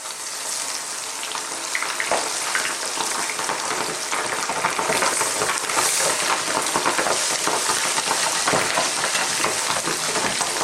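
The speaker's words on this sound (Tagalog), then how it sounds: "nagpainit na rin po ako ng mantika sa aking kawali. So, last stage natin, magpiprito na po tayo." Squid adobo pieces frying in hot oil in a pan, giving a loud, steady crackling sizzle with bursts of popping throughout, heard alone without talk.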